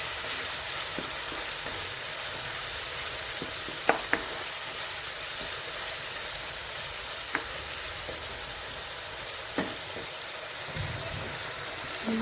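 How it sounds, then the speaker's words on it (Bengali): Spice masala frying with tomatoes in a pan for an egg curry, a continuous close sizzle and bubbling hiss with a few sharp clicks of a stirring spoon scattered through, no voices. "মশলাটা ভালো করে কষিয়ে নিতে হবে, মানে টমেটোগুলো সফট হয়ে যায়, মশলাগুলো ভালো করে কষানো হয়ে যায়।"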